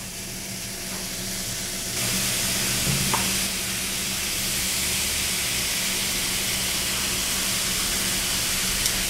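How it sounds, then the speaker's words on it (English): Baking soda fizzing in small bowls of vinegar, a steady soft hiss that rises from about two seconds in and holds evenly to the end, with no voices. "I'll be placing 1 tablespoon of baking soda into each of my little bowls, and this is going to make the vinegar fizzle"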